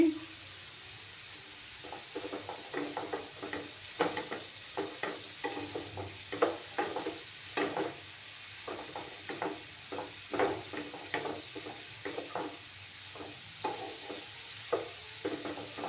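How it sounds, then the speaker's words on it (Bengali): Spice paste with slit green chillies frying in a pan while being stirred, soft sizzling under repeated scraping strokes of a spatula at a steady rhythm, quiet and close, with no talk. "একটু সময় নিয়ে এটাকে কষাবো আমি।"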